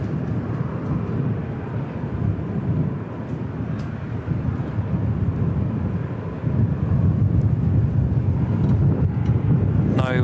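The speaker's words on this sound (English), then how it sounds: "NZ535 on short finals coming in from Auckland." Airliner NZ535 from Auckland on short final at Christchurch Airport, a steady, loud low rumble of engines with wind buffeting that swells slightly toward the end.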